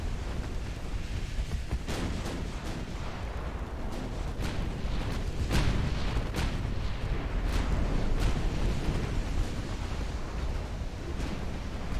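Battleship main guns firing in a naval battle in Ultimate Admiral Dreadnoughts, heard as repeated heavy booming salvos at irregular intervals over a constant low rumble of sea and battle ambience, with no talking.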